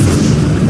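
A spell cast in the Hogwarts Legacy video game lands as a short, loud, booming burst with a deep rumble that fills the whole moment.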